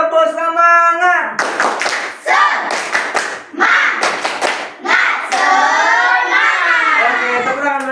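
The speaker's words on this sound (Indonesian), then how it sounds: "Oke, tepuk semangat." Schoolchildren in a classroom do a rhythmic clapping cheer, loud close bursts of patterned hand claps mixed with shouted chanting, ending in a sustained group shout.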